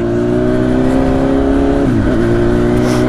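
A 1000cc motorcycle engine revs while riding, a loud sustained whine that dips as the rider shifts and then climbs again, with wind rushing constantly underneath.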